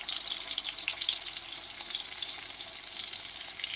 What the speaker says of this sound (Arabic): نزل اللحمه بتاعتي كلها وهي بتتشوح.